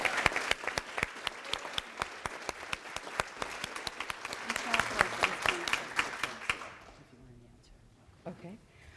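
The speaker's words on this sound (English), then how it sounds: "Please join me in a round of applause for all of our nominees." A large audience at the 2023 Harford County Leading Women awards applauds all the nominees, sustained dense clapping that fades out after about six seconds, followed by a brief faint voice.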